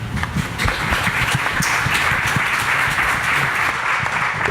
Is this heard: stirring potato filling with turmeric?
no